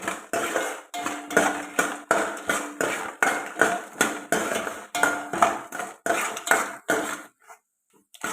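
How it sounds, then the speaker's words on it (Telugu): A spoon stirs coriander seeds and spices frying in a pan for gongura chutney, producing loud, rhythmic metallic scraping strokes, about a dozen in steady succession, before stopping abruptly near the end. "ఇప్పుడు ఇవన్నీ బాగా ఫ్రై అయ్యేలాగా కలుపుకోండి"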